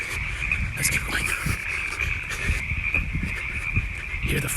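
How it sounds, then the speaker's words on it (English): Frogs croak at dusk beside an outdoor running route, a dense and fairly faint chorus under a steady high insect trill, with soft footsteps and breathing close by. "Hear the frogs?"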